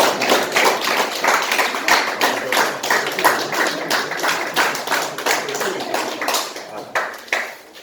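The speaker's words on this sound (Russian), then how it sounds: "Под ваши бурные аплодисменты." At a party plenum meeting, an indoor audience bursts into lively applause, a dense, sustained clapping of many hands over several seconds with a faint voice now and then.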